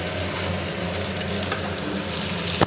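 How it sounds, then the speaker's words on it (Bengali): Potatoes fry in a pan with a dense, continuous sizzle heard close up, broken by a brief utensil knock just before the end. "আর এখানে হচ্ছে বাবুর জন্য আলু ভাজা।"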